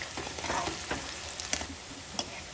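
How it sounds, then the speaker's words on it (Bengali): Chopped onion fries in mustard oil with whole spices, a soft constant sizzle broken by occasional scraping stirs and sharp utensil taps against the pan, heard up close without speech. "পেঁয়াজটা আমি বাদামি করে ভেজে নেব"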